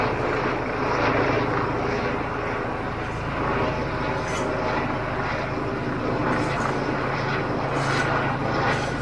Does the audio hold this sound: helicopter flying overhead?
yes